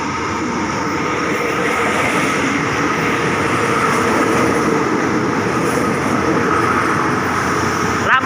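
Thai express train number 8 passing a station at speed to pick up the single-line token, a steady loud rumble and rail roar lasting throughout with a sharp clack near the end.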